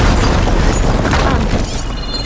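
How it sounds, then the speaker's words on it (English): A wall blown apart in Horizon Forbidden West, a loud, heavy booming explosion with a deep rumbling roar that fills the whole moment and slowly tails off, with no voices over it. "would you mind warning me next time you decide to, blow up a wall?"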